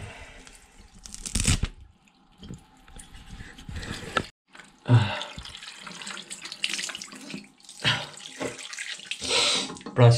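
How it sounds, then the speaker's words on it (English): A toothbrush is washed under a running tap at a family farmhouse in northern Uttar Pradesh, India. The water splashes in irregular close bursts with brief pauses between them, and there are faint voices in the background. "this is how I wash my"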